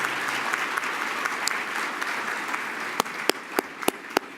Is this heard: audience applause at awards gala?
yes